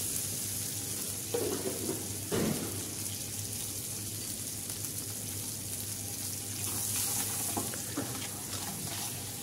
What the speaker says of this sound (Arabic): فتنشوحوا التحميره في الزبده